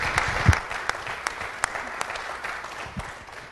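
Audience applause at a city council meeting: a steady patter of clapping from the chamber, moderately loud, with a few sharper knocks and thumps, fading slightly toward the end.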